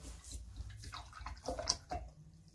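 A paintbrush swished and rinsed in a container of dirty painting water, soft faint sloshes and small drips, close and quiet.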